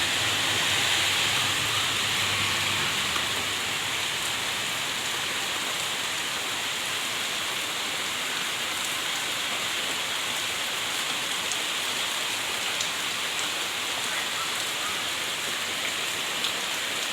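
Village rain falls in a steady, even hiss that lasts throughout, dense and moderately loud, with no voices.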